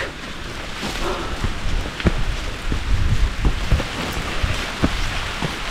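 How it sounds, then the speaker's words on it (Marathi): Steady rain hisses through the trees, with gusts of wind and a few louder drips and patters, and no one speaking. "पाऊस सुरू झाला आहे."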